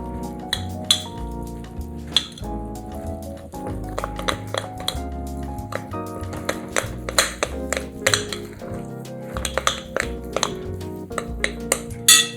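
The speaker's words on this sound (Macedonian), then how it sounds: "И имам кисело млеко. Со лажица убаво измешајте го." A spoon stirs yogurt into muffin batter in a bowl, giving loud, close, steady clinks and taps against the dish with wet scraping between, continuing without pause and with no talking.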